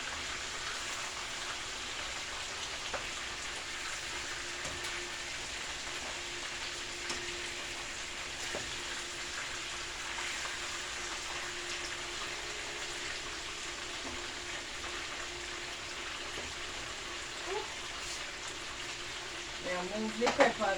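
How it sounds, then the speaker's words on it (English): Fish for a Jamaican escovitch dinner frying in a pot, a constant rain-like sizzle running throughout with occasional scrapes from stirring and a few louder clatters near the end. "Stir the fish."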